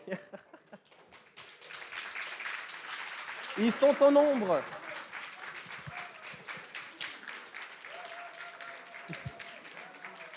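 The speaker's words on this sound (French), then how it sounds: "Je vais vous demander d'accueillir ces 16 participants qui viennent déjà, qu'on peut applaudir" An audience at a university eloquence contest applauds as sixteen participants are welcomed, a continuous patter of many hands under a voice speaking over it, swelling briefly in the middle.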